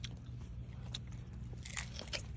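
Several quick, crisp crunching bites into a fresh sweet guava picked in a family orchard, close and quiet, followed by a few clicks and light chewing sounds.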